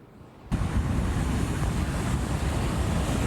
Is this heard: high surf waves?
yes